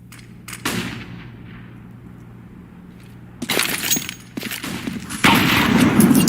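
Gunfire and a grenade blast in a Counter-Strike match on Mirage: sharp bursts of shots and an explosive crack after a quiet stretch, then sustained loud firing toward the end.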